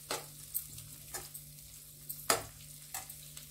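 Onions for paneer bhurji stir-frying in a pan, with a low steady sizzle and a few sharp scraping stirs of a spoon, close and fairly quiet, no talking.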